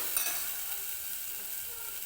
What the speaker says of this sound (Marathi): हे व्यवस्थित आपल्याला भाजून घ्यायचं आहे